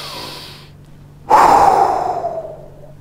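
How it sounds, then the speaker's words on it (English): A single deep, audible breath drawn in during a calming breathing exercise, a sharp onset swelling into a long airy inhale that slowly fades, close to the listener with no talking. "And then take a breath."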